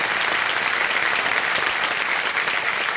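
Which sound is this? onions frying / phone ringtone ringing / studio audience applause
studio audience applause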